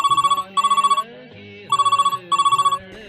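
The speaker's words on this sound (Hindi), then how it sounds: "ये फोन भी तो कितना बज रहा है।" A landline telephone in a home rings in two pairs of rapid trilling bursts with short gaps between them, loud and close, with faint background sounds underneath.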